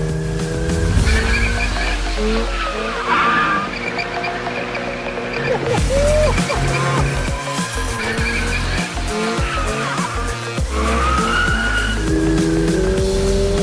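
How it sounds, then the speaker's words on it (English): A 2022 Subaru BRZ sports coupe drifting, engine revving and shifting while its tires squeal in long wavering screeches, loud and close over nearly fourteen seconds. "now let's see if we can't drift this thing a little bit"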